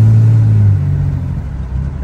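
A car takes its first drive after a new fuel system install, its check engine light on; a loud, steady low engine rumble with a brief rev easing off partway through, heard alone.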